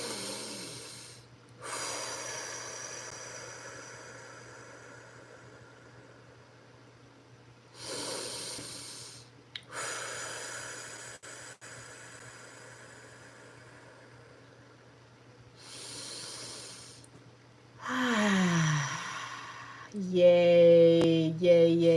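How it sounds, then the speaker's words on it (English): Three slow, deep cleansing breaths, each drawn in through the nose and let out through the mouth as a soft airy hiss, separated by long quiet pauses, with a brief tonal voice-like sound at the very end. "Let's drop in with 3 cleansing breaths. Inhale through the nose, exhale through the mouth."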